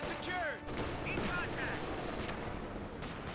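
Grenadier rifles fire a volley in the Company of Heroes 2 battle, a dense crackle of gunshots and distant booms running through the clip, with a voice talking over it.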